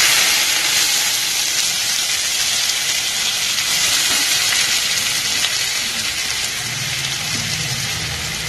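Finely chopped onion, garlic and ginger sizzle in hot oil for Punjabi chana masala, a loud, steady, dense hiss that runs unbroken with no talk.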